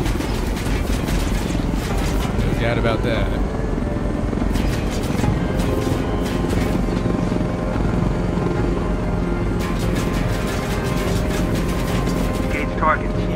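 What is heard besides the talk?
helicopter flying in Ghost Recon Wildlands video game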